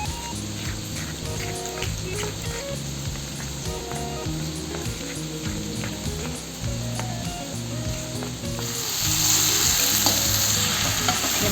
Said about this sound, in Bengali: এদিকে আমার কাঁঠাল ভাজা হয়ে গেছে।